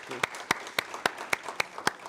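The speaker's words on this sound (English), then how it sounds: "I want you guys to give some applause for her" Faint, regularly spaced claps, roughly four per second, come from a small audience during an online AI and machine learning training session. They sound thin and distant over a quiet background.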